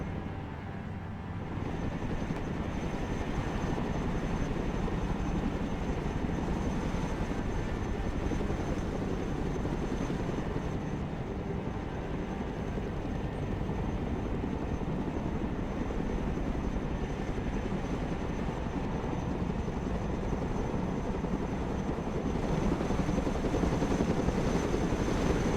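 A Chinook helicopter in the video game Broken Arrow flies with a constant, loud, dense rotor and engine roar that holds steady throughout with no break and no talk.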